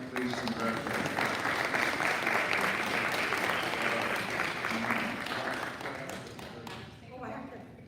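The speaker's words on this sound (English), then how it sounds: "Give Barbara another round of applause." Audience applause fills a Rotary club meeting hall, dense and sustained clapping at steady volume that thins out toward the end.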